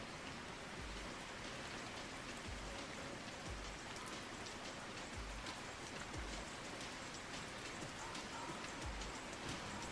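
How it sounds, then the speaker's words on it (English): Video game rain pours steadily, a dense, even hiss with soft low thumps at intervals, faint and continuous with no talking. "I love rain in this game."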